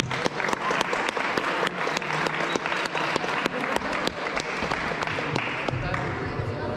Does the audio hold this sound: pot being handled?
no